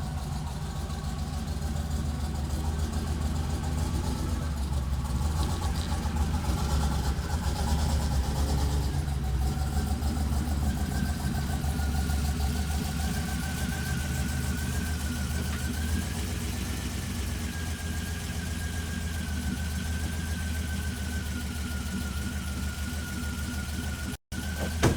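Car engine on a newly fitted Holley EFI setup running steadily at idle on its first start, a continuous low droning rumble with a faint steady whine above it, nearby and unbroken throughout.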